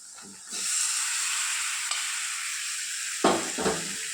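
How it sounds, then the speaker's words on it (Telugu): Chicken pieces drop into hot oil tempered with fried onions for a chicken curry, then sizzle and fry steadily with stirring, close and moderately loud, with a few scraping spoon strokes near the end. "ఇప్పుడు మనము చికెన్ని రెడీ చేసుకున్న చికెన్ని తాలింపులో వేసుకుందాం"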